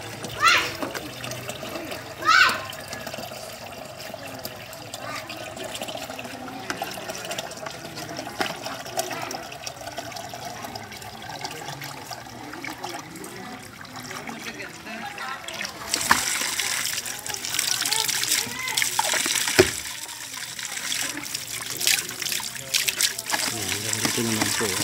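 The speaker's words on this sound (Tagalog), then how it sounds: "Libre po ang tubig dito. Sasahod ko lang." Free spring water runs and splashes as it fills a container, a continuous pouring that grows louder and fuller toward the end, with people, including a child, talking over it.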